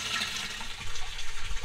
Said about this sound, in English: the control bucket is filling up